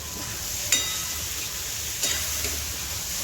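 Potato pieces frying with bombil fish in a spicy masala give a soft, steady sizzle in the pan, with a couple of light clicks from stirring, close by and with no talk.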